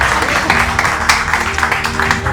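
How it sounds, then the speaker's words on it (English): An audience at a Dubai community networking event applauds, a dense continuous wash of clapping from a crowd, loud and close throughout, with a faint voice underneath. "ladies and gentlemen, a round of applause for Stella Fubara."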